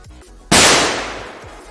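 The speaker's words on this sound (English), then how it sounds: "literally the speaker for the gunshot is 3 feet away from me instead of right in my face" A loud gunshot sound effect played through a speaker about three feet away in a room, a single sharp bang with a long decaying ring-out, preceded by faint background noise.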